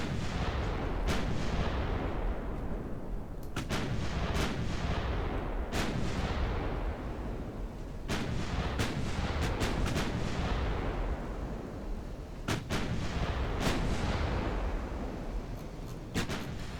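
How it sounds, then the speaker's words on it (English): Naval guns firing in an early-1900s Italian naval battle game, repeated sharp cracks and deep booms at irregular intervals over a constant loud rumbling din, no speech. "Let's keep firing on them."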